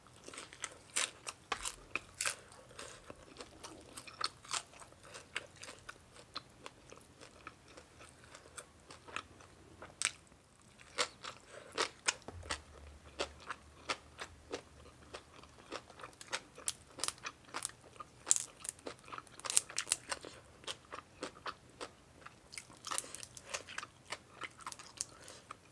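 Crispy fried sun-dried tilapia being chewed with papaya salad, giving steady close crunches and bites in an irregular rhythm throughout, with no talking.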